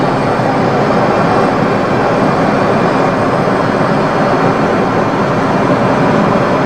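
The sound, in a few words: Learjet engines at full throttle on takeoff roll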